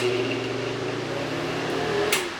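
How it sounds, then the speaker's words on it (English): Loud bathroom exhaust fan in a house being renovated, a steady whirring hum with tonal drone running continuously, close and unbroken. "That is a loud fan,"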